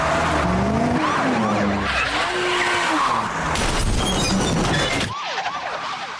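A police car skids in as the last car arriving at a staged car collision, with loud screeching tyres, engine noise and a siren-like wail over several seconds before the sound cuts off sharply.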